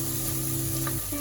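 Onions sautéing in a pan for a pressure-cooker mutton curry, a steady close sizzle and frying hiss running throughout without pause or voices.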